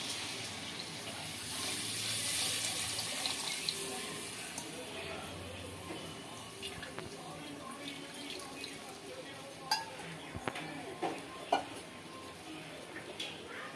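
Strained tamarind water pours into a village-style fish curry, a soft continuous liquid wash with a few louder splashes or clinks near the end, heard under a quiet room background.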